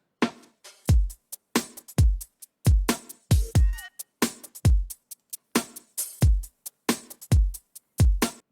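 Sparse electronic percussion hits and a vocal hit programmed in a Reason production, punchy isolated thumps with bright attacks firing in an irregular rhythm against near silence.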